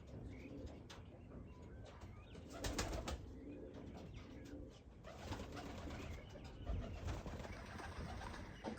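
Pigeons coo softly in repeated low calls, with occasional wing flaps and faint background noise, no talking.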